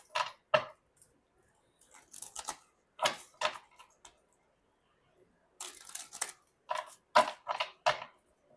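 A deck of tarot cards is shuffled in one pass, making quick bursts of papery riffling and slapping in short irregular clusters separated by pauses, close and moderately loud.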